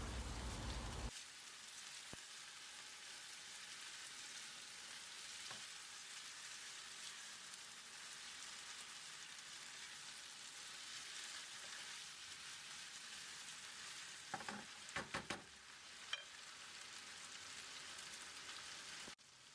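Meatballs for a yogurt-dressed vermicelli soup sauté in a pan, giving a steady, close, rain-like sizzle throughout, with a few sharper stirring clatters near the end and no talking.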